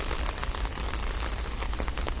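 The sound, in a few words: rain and wind in a cemetery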